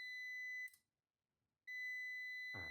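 A UPS ETECH 1200VA unit emits loud, steady high-pitched beeps when switched on: one long tone that cuts off, a pause of near silence, then the tone resumes, joined briefly by a short noisy burst at the end.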